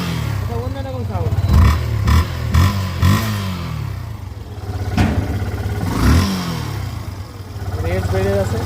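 Near and loud, a Yamaha FZS V2 motorcycle engine idles with a steady low drone and blips a few quick revs early on, then another swell later, with a voice talking over it at times.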